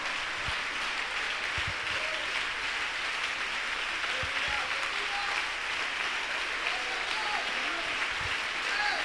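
Standing church congregation applauding the Lord at a Holy Spirit baptism service, a steady loud wash of clapping throughout, with faint voices and a few low thumps beneath.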